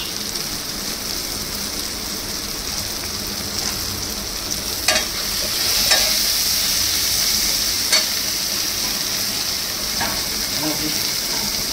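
Chickpeas sauté in a pan with turmeric and chilli powder, a steady sizzle and fry hiss with a few sharp scraping stirs of a spatula.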